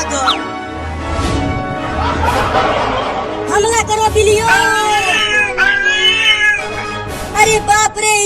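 A crowd of cartoon cats meows and yowls as they attack in a desi comedy cartoon, with several loud overlapping drawn-out meows, caterwauling and some chuckling over background music.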